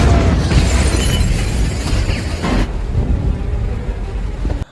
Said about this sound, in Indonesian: pesawat Thanos langsung membombardir markas Avengers